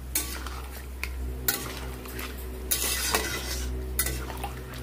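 A potato and pointed gourd mustard curry gets stirred in a pan with repeated spoon scrapes and clinks against the metal, each stroke loud and close over a low steady hum and faint simmering.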